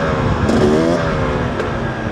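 A 2-stroke 300cc motorcycle engine drones loud and close, its pitch rising and falling through a short rev in a continuous buzzing tone with no voices.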